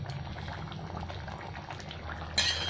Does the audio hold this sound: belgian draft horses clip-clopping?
no